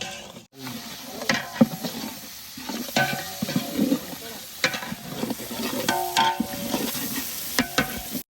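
Green chillies frying in a pan of village-style quail curry: close, crackling sizzle under repeated scraping stirs, with irregular bursts throughout.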